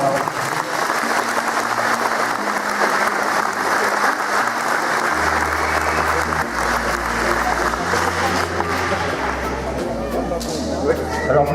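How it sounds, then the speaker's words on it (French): A crowd applauds after a speech at a seventieth birthday celebration, dense and sustained clapping filling the whole stretch, with a low hum and some voices mixed beneath it. "Et je tire mon chapeau à Jérôme, je crois que vous pouvez l'applaudir."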